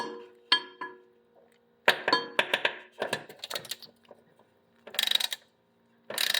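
A hand ratchet tightens the oil drain plug on a lawn mower, giving close, crisp bursts of rapid clicking separated by short pauses.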